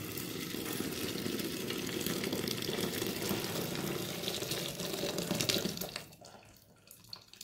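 Hot water pours steadily in a continuous splashing rush, close and moderately loud, before tapering off near the end; no one speaks.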